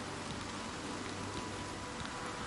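Steady rain falls in The Elder Scrolls IV: Oblivion Remastered, a constant broadband hiss of drops on surfaces with a low rumble beneath, unbroken and even in loudness, with no voices.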